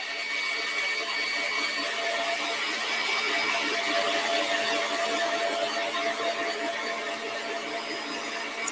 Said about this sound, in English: we whisk that butter first, because it's nice and soft